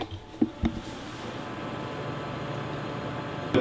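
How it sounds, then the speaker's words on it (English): Stock case fans of a Cooler Master N200 PC case run with a steady, airy whoosh, joined by a few faint clicks and a soft knock near the start and end. "That is the sound of the stock fans of the Cooler Master N200."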